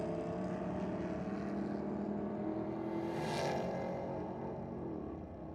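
A 1940 Chevy pickup with a 6-litre LS V8 drag races down a Sydney dragway, its engine a continuous loud roar from start to finish, rising in pitch mid-run before fading slightly as it passes.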